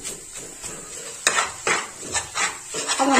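Potato halwa fries in ghee in a kadai while a spoon scrapes and clanks against the metal. The strokes are uneven, grow louder and more frequent partway through, and sit over a soft background hiss with no speech.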